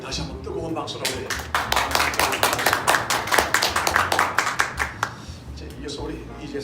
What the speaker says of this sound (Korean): 우리 다시 한번 뜨거운 박수로 우리